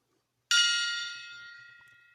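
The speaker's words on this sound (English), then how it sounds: "ringing my gong and saying thank you, Faith, for being faithful to our church" A single metallic strike rings out once, bright and shimmering, then fades slowly into a long, sustained hum with nothing else around it.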